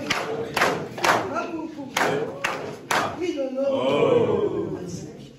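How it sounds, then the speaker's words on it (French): Guests at a school cafeteria inauguration in Kibossi clap in several distinct, spaced bursts, then a voice talks over a murmuring crowd as the clapping fades. "Nous allons applaudir pour le papa délégué du président fondateur de l'association de l'Européenne"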